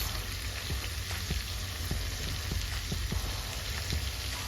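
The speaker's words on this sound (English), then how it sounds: "I'm going to flip my chops over, and I'm going to let these go for 3 minutes with the butter and the soy sauce" Pork chops sizzle and crackle steadily in a pan with butter and soy sauce, a dense continuous spatter with small pops, close and even in level, no voices.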